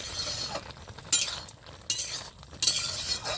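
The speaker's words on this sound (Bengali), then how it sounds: "এবার আমি ফাটাতে করে সেঁকে নেব।" Boiled taro leaves being stirred and toasted in a pan, with a low steady sizzle under intermittent bright scraping strokes of a utensil, three louder clinks spaced about a second apart, no voices.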